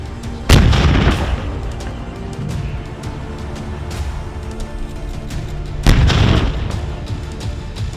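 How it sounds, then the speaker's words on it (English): Heavy artillery hitting Russian tanks in a Ukrainian field: two loud booming blasts, one early and one near the end, each with a rumbling tail over steady low background noise, with no talking. "which managed to take out the tanks with one hit of heavy artillery"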